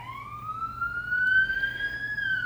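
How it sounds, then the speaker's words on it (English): An ambulance siren wails outside, one sustained rising tone sweeping up gradually at moderate distance over a low background hum. "there's an ambulance coming"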